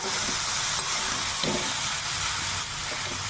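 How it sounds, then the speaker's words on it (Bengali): Chopped bottle gourd being sautéed with spices in a hot pan for a vegetarian lau ghonto, giving a steady close sizzle with soft stirring scrapes throughout. "এবার ভালো করে কষিয়ে নেবো তো মশলার মধ্যে, মশলার সাথে লাউটা"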